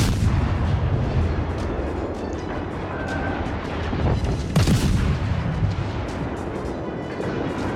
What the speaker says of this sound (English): Okay, now we're switching over to AP. And then the AP rounds start coming in.